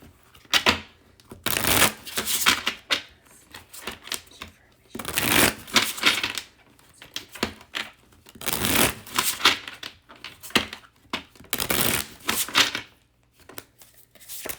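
New, slippery playing cards being shuffled in repeated bursts of riffling and flicking, close and fairly soft, separated by brief pauses, with no speech.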